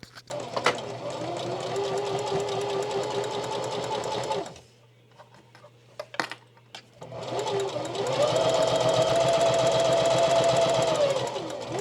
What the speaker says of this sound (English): I'm going to jam out and just sew.